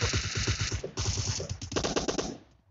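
Gunfire in a video game: a rapid automatic burst of shots, a brief pause, then another fast volley that fades out, sharp and fairly close, with no talk.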